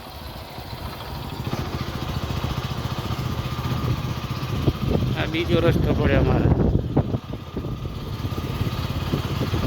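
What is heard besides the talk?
motorcycle riding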